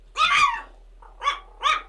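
A pet dog indoors lets out three short, sharp barks in quick succession, close and loud, with a longer first bark and two clipped ones after a brief pause.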